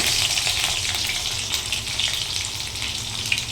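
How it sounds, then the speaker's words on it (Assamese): Onion pieces dropped into hot oil in a pan for a home-cooked Assamese pork dish, a steady loud crackling sizzle that carries evenly throughout without talking. "ইয়াত তেল গৰম উঠিছে মই এতিয়া প্ৰথমতেই দি দিম অকণমান পিঁয়াজখিনি"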